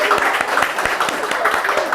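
A gala talk-show audience claps in a dense, steady wash of applause that holds at an even level throughout, with scattered sharper hand claps standing out and some voices mixed in.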